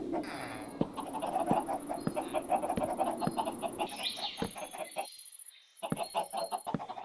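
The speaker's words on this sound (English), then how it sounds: "I'll put some chickens up the top here." Minecraft chickens on a lossless chicken farm cluck and squawk in short bursts, joined by crisp, regularly spaced block-placing clicks, with a brief silent gap before the clucking resumes.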